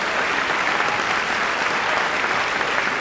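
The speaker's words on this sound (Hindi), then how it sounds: "ज़ैनब के लिए जोरदार तालियां।" An audience applauds a singer being called to the stage in a dubbed Turkish drama; dense, steady clapping fills the whole stretch with no voices over it.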